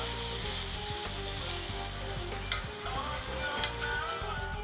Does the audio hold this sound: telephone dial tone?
no